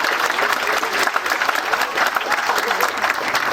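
Dense audience applause at a Pawnee Scouts honoring and seed preservation society anniversary event, many hands clapping steadily and loudly throughout with faint crowd murmur beneath.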